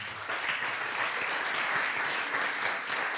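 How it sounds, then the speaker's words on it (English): Sustained applause from an audience at a 2018 horticultural science society keynote session, honouring three student award winners; steady, dense clapping throughout with no voices on top. "one final big round of applause for all three of them"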